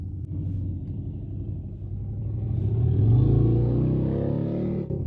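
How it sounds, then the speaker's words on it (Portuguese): An old motorcycle engine runs with a low, steady rumble that swells as it revs up midway and then holds, close and loud with no talk. "É uma moto antiga e legal."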